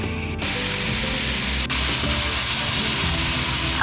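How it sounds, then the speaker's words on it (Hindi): Tomatoes frying in a pan give a loud, steady sizzle that runs unbroken throughout, with no talking. "अब इसी पैन में मैं ये टोमेटोज़ ऐड कर लेती हूँ"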